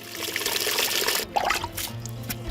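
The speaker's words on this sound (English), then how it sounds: "The water used is recycled wastewater that runs to the sink through a connected pipe." Recycled wastewater runs from a connected pipe into a school sink, a continuous close trickle and splash that shifts in tone partway through, with no talking.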